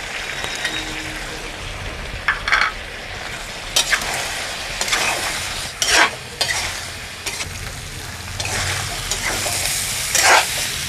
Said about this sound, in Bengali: মশলাটা ভাজা হয়ে গেছে বন্ধুরা